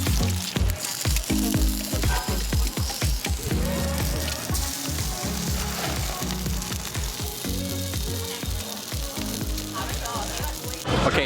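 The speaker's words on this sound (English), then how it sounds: "she's taking some really hot pans, she's pouring some oil in there, and she's throwing some eggs, and then she is frying the eggs" Eggs fry in hot oil in pans at a Saigon street food stall, with a continuous dense sizzle and crackle plus repeated metallic scraping and clanking of utensils, busy and close throughout.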